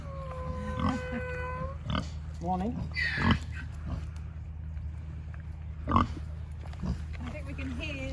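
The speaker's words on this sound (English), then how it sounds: "Pigs here as well." Pigs grunt and oink close by in short, irregular bursts, with a brief spoken greeting and a low steady hum underneath.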